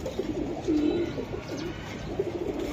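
Silver pigeons coo in low, rolling calls close by, several warbling phrases repeating over a steady background hum of other birds.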